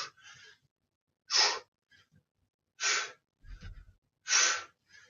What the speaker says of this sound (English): vous avez entendu ma respiration. You heard me breathing.